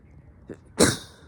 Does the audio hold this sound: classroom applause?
no